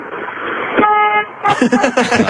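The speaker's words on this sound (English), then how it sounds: "Beep the horn." A car horn honks in street traffic, one sustained beep followed by a burst of shorter blasts, loud and close, with road noise around it.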